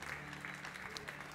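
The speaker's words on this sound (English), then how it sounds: "Give him a clap offering." A church congregation claps together in a brief burst, dense overlapping handclaps rising and falling, heard fairly faintly.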